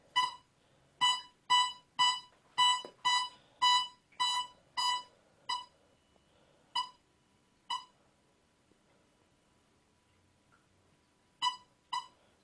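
A metal detector gives a series of sharp, tonal beeps over a halfpenny coin in a field, rapid and regular at first, then spaced out, pausing, and returning with two final beeps.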